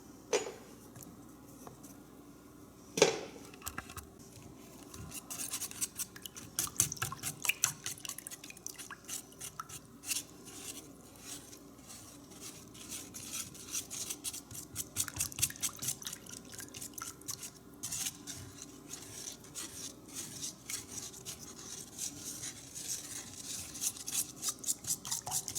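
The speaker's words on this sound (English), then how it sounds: "Now we're just going to whisk it all together." Rapid, irregular clinks and wet clicks of a whisk stirring ingredients together in a bowl for a food-prep recipe, close and continuous with a few louder knocks against the bowl; no talking.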